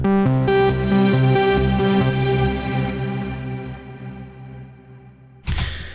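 A Moog Subsequent 37 synth run through an Eventide Blackhole reverb plays a few sustained, harmonically rich notes that bloom into a long, shimmering tail and slowly fade away. A sudden loud noisy burst cuts in at the very end.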